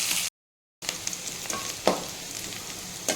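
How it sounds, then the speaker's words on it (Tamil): Curry leaves fry in hot oil with onions in a pan, giving a soft, steady crackling sizzle with a few sharp pops over a few seconds. "இப்போ கருவேப்பிலை சேர்த்துக்கலாம். சேர்த்துட்டு பொன்னிறமாக வதங்கட்டும்."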